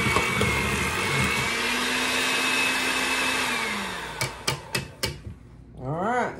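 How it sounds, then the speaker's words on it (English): Electric hand mixer beaters whirring steadily through lemon sugar cookie batter, a continuous motorized drone that winds down near the end, followed by a few sharp knocks of the beaters against the bowl. "So I'm gonna stir this up real quick with my beaters"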